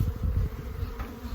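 Honeybees buzz at an opened hive that has just been smoked, a close, steady drone with a soft low rumble beneath it and no voices.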